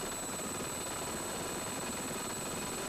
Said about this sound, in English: as the helicopter gains altitude